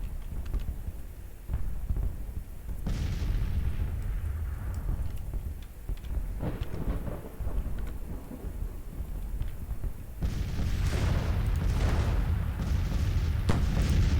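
Civil War artillery shells in Grand Tactician burst overhead in deep, rolling booms over a constant low battlefield rumble, with a heavier cluster of blasts near the end.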